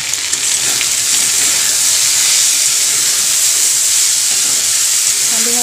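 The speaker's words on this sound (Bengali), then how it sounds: "গোটা জিরে দিয়ে দিই, দিয়ে ফোড়ন দিয়ে ডাল সাঁতলে দিই" Dal poured into a cumin-seed tempering hisses and sizzles loudly and continuously at close range, a dense steady frying noise with faint clatter underneath and no speech.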